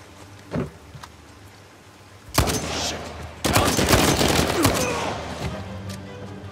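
Gunfire in the video game Uncharted 4: a lone shot, then a burst of rapid firing and a longer sustained volley of automatic fire, loud and close, without talk.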